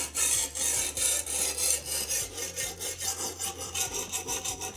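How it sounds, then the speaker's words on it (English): Diamond sharpening stone on a TSPROF K03 system grinding a knife blade, a rough rasping scrape in steady back-and-forth strokes, close and loud with a regular pulsing rhythm. "I love the rough sound of diamond stones on a blade"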